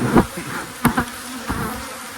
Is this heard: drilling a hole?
no